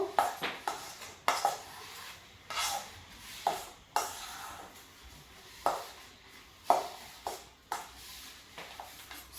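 A spoon scrapes and knocks against a bowl while sandwich filling is mixed, giving irregular clinks and rubbing strokes, close and fairly quiet, with no talk.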